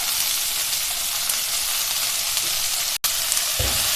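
Onion, tomato, slit green chilli and curry leaves sautéing in a pan for a okra dish, a loud, close, continuous sizzle and hiss with a brief break near the end and a stirring scrape after it.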